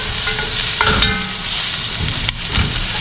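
Onions, ginger and garlic sauté in a pot, a loud short burst of sizzling with stirring scrapes and clinks over the hiss.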